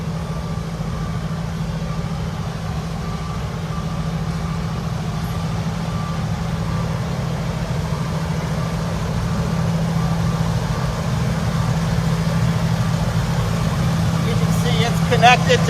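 A water truck's engine idles steadily at a cold in-place asphalt recycling roadwork site, with a deep, constant low rumble, close by and unchanging throughout.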